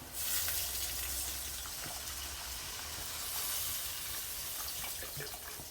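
Water pours steadily into a pot with a continuous rushing hiss, close and fairly loud, with no talking.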